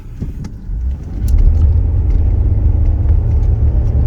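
2004 Jeep Liberty Renegade, after a rocker arm and lifter repair, accelerating hard from a stop, its engine rising from a low idle rumble into a loud, sustained close roar.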